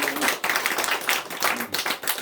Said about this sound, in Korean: 우리 하나님께 감사의 박수를 드립니다